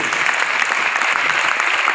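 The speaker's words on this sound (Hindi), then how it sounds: "तालियां होनी चाहिए जोरदार" Steady applause from a crowd, dense continuous clapping that holds at an even level for the whole stretch.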